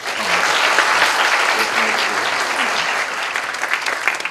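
Sustained audience applause at a university science college entrance ceremony, honoring representative scholarship students; dense, steady clapping from a large crowd fills the whole stretch at even loudness.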